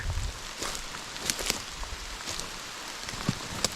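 Light rain patters over a creek-side forest floor, faint scattered drops tapping leaves against a soft steady hiss.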